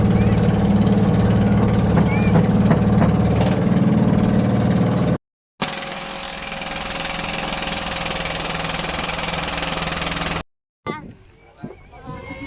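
A steady bangka motorboat engine drones loudly and continuously on a trip to Gamayng Baybay Beach, broken by two brief cuts, with splashing and faint voices near the end.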